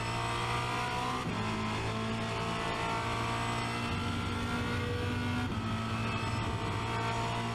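Formula Renault 2.0 race car at full throttle at Spa-Francorchamps, engine screaming loud and close with steady high-pitched revs broken by two quick gear changes.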